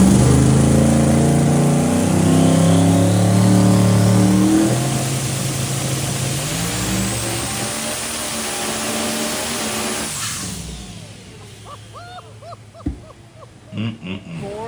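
A 5000 hp car engine roars loud at full throttle on a dyno pull, sweeping through climbing harmonics before cutting off around ten seconds, after which faint mechanical noises and short bursts follow.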